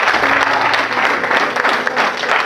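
Congregation at a religious wedding ceremony in Paris breaking into sustained applause, dense clapping from many hands filling the room, loud and close with a few voices mixed in.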